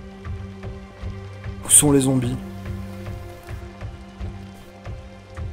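Rain falls steadily in the PC video game Thundard Reset, a soft, scattered patter heard under someone speaking French, with a brief louder swell partway through.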